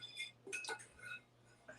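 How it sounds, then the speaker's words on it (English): Flour and cornstarch stirred together in a bowl as a dry coating for frying chicken, giving a few light clinks and scrapes of a utensil against the bowl, close and fairly quiet over a low steady hum. "So I'm just stirring that together."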